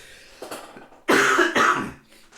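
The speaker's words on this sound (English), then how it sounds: "Hang on a minute, I'm going to cough again." A couple of harsh, throaty coughs from a person with a cold, close to the mic, one short burst then two louder hacking bursts, after a quieter lead-in.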